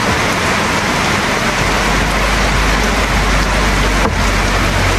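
Heavy rain pours down steadily, a dense, loud hiss of drops on surfaces close by, unbroken for the full few seconds with a low rumble underneath.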